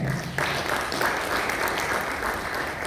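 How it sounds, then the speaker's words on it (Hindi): A church congregation breaks into applause, a dense, even patter of many hands that swells abruptly after a brief moment and holds steady at moderate loudness. "क्या हम ताली बजा सकते हैं?"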